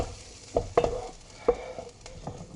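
Chorizo, chicken and prawn rice ingredients sizzle softly in a pan, with several sharp clanks of a utensil stirring against the metal over a low, steady frying hiss; no voices.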